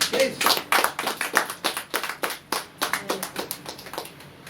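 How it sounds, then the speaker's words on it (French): Church congregation clapping in a fast steady rhythm to acclaim the Lord, many hands together in repeated sharp claps, fairly close, with faint voices mixed in. "On acclame très fort le Seigneur."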